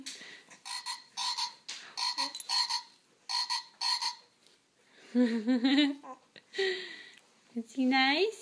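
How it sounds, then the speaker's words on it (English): Repeated close frog croaks in rhythmic pairs, interrupted by a voice speaking and exclaiming between them. "He's croaking."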